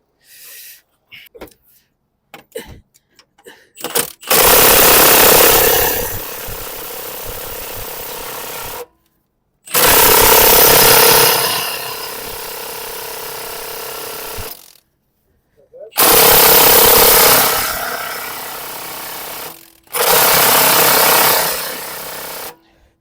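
An impact wrench on its highest setting hammers at a bolt on a Ford Focus 1.0L EcoBoost during a wet cambelt replacement, loud and close in four long rattling bursts separated by pauses, after some brief clicks and handling noises.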